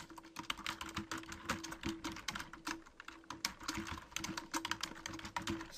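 Fingers type steadily on a computer keyboard while entering text into a spreadsheet, producing a dense, close run of rapid clacking keystrokes that continues without pause.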